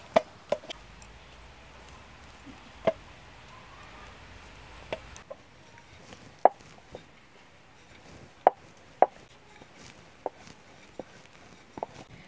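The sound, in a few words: rolling out roti dough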